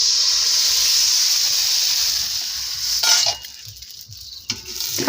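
Rice-flour pitha batter sizzles steadily in an oiled wok, a loud continuous hiss that breaks up toward the end with a few clatters as the pan is swirled.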